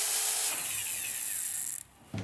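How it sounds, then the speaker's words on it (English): A magnetic drill bores holes in steel RSJ beams during a building refurbishment, a steady high whine with grinding that runs for nearly two seconds, then cuts off abruptly before a short burst resumes. "Here we are using a mag drill to drill some holes in the RSJs."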